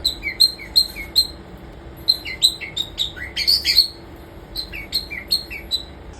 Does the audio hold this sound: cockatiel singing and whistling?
yes